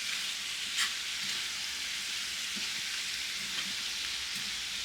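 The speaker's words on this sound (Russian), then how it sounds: "Вот так вот достану и перемешаю." Pink salmon frying in a pan and being stirred, with a steady bright sizzle running throughout and a few soft scrapes and knocks from the stirring.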